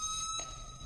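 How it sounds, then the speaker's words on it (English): A building burglar alarm rings with a steady, piercing electronic tone, loud and close, holding continuously through the short moment without any voices. "get someone up here who can cut off this goddamn alarm"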